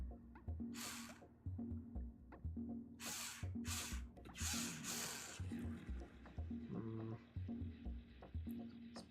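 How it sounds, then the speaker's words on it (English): A cordless drill runs in short repeated bursts with low motor whine and pauses between, close by, with occasional harsh hissy noises. "Let's drill down that one."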